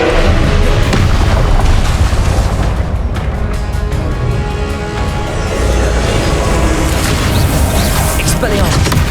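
Loud, dense booming blasts from a Confringo fire spell in Hogwarts Legacy fill the scene continuously, with heavy low rumble and crackling impacts layered over game combat sounds.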